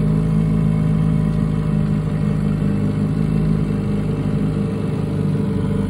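A vintage Mercury Mark 6 outboard engine in rare Matador red runs at a steady, loud, even drone with a low hum and no pauses, heard alone without talk.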